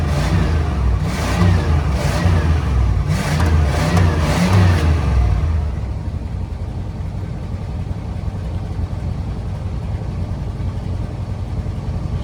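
Travco L'Esprit motorhome with a 440 V-8 big block running after an Italian tune: several deep revs rise and fall over the first half, then settle into a steady rumbling idle.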